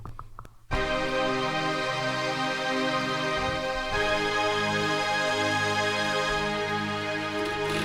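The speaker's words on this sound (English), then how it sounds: "It's called the biggest pad ever, and it sounds like this." A lush, sustained synthesizer pad swells in after a brief pause, its chords shifting once midway and holding steady and full throughout, with no voices.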